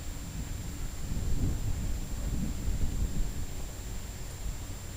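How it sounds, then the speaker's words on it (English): Thunder from an approaching storm: faint, low, distant rumbles swelling twice over a steady background hiss and a thin constant hum. "So yeah, there's a storm rolling in."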